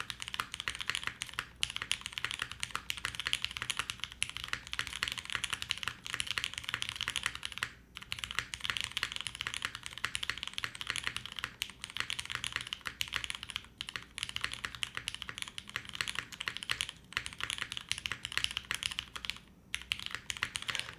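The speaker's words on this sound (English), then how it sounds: "let me just type in some random stuff here" Typing on a custom-built Derivative mechanical keyboard fitted with a ring mount: a continuous run of close, crisp keystrokes in quick irregular bursts, with a couple of brief pauses and no voices.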